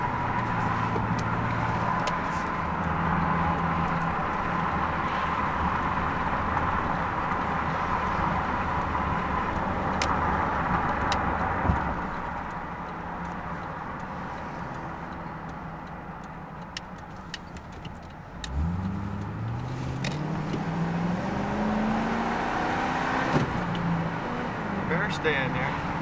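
A Ford F250 Super Duty pickup driving with the windows down gives a steady, close engine and road rumble with wind noise throughout, and the engine note climbs as it accelerates near the end.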